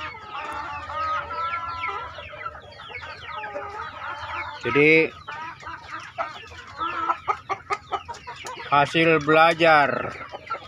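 Chickens of a prized breed, young pluckers and a rooster, cluck continuously at close range on a small farm, with one louder squawk midway and a burst of agitated clucking near the end, while someone talks over them.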